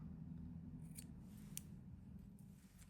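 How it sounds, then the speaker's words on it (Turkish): Scissors snipping knitting yarn while hand-knitting a child's cardigan, a few faint crisp snips over a steady low background hum, no voices. "Şimdi buradaki ipimi arkadaşlar kesiyorum."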